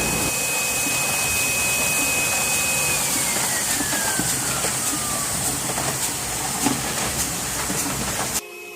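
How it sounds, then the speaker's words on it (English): A plastic injection molding machine in a factory making Tesla wheel covers gives off a loud continuous industrial hiss and rumble, with a steady whine that slides downward before the noise cuts off near the end. "this is the injection molding machine"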